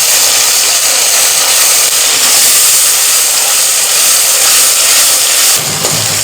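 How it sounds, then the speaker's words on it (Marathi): Onion and tomato paste sauté in hot oil, giving a loud, dense, unbroken sizzling hiss that runs throughout and eases slightly at the very end. "कांद्याबरोबर आपल्याला ही पेस्टसुद्धा छान परतून घ्यायची आहे"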